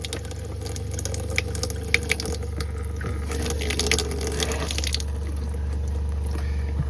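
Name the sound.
cold water running from faucet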